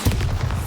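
A Bombarda spell explodes during combat in the video game Hogwarts Legacy, a single brief, loud, deep boom with a low rumble and nothing else around it.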